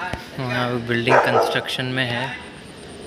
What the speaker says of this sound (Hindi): कुत्ता भौंक रहा है हमारे पे।